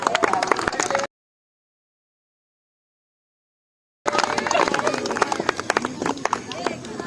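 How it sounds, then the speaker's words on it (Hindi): Audience applause at a student achievers' talk event, dense rapid clapping from a crowd, loud and close, heard in a burst before a gap of silence and then resuming strongly. "जोरदार तालियां"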